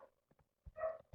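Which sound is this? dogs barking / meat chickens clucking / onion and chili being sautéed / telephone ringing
dogs barking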